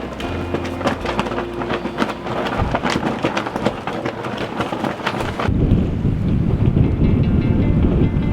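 Strong wind before a summer thunderstorm roars and gusts at a flag, steady and loud, with a rumbling, rain-like wash taking over in the second half.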